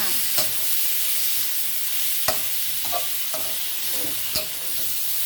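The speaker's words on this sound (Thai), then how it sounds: "อันนี้เราก็ผัดหมูค่ะ" Pork stir-fries in a pan for wide rice noodle rad na, giving a steady bright sizzle broken by sharp scraping clicks of the spatula at irregular intervals.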